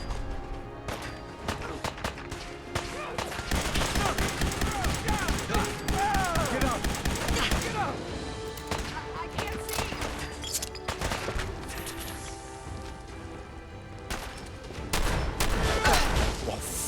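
Shotgun blasts and other gunfire ring out in Fallout 4 during the Battle of Bunker Hill, with loud repeated shots and bursts of combat noise throughout, overlapping an energetic game soundtrack and effects.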